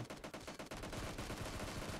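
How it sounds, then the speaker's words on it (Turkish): Gunfire in the mobile shooter PUBG Mobile, a rapid burst of about eight sharp shots followed by a denser rattling volley, fairly faint and continuous. "Çok fazla silah sesleri vardı."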